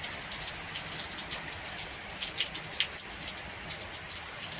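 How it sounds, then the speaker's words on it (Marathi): Heavy rain pours outside near a flooded river in Satara, a steady bright hiss with scattered close drips and splashes standing out, moderately loud and continuous. "हे बघा पाऊस पडतोय जोराचा"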